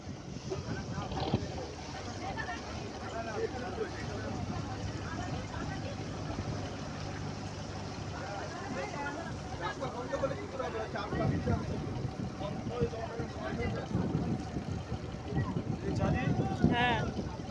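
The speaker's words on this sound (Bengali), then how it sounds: "এই যে ছাড়লো, আমাদের লঞ্চ ছাড়লো" A motor launch pulls away on a river in the Sundarbans, its engine a steady low rumble under wind noise and water sounds, with people talking close by through much of the scene.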